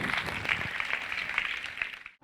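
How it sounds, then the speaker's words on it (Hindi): A church congregation applauds during a sermon, a steady dense wash of clapping from many hands that holds evenly, then cuts off abruptly at the end. "आइए उसके लिए जोरदार तालियां बजाएं।"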